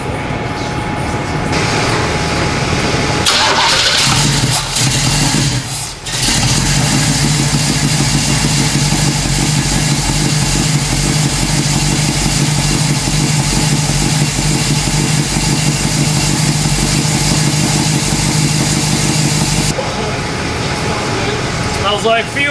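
A '67 Firebird's Oldsmobile 455 big-block V8 rumbling steadily at idle after starting, loud and close for the full stretch, with brief quieter moments near the start and end and voices talking over it.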